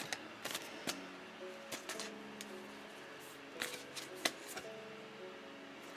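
Thick tarot cards being shuffled by hand, a series of crisp riffling snaps and clicks in uneven bursts, close and fairly quiet, with no talking.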